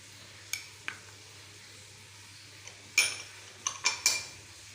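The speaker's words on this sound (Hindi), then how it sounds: "सारे मसालों को अच्छी तरह मिक्स कर लेंगे।" Spices stirred into ghee or oil in a pan, a faint low sizzle beneath a few scattered metallic clinks and scrapes of a spoon against the pan, grouped near the end.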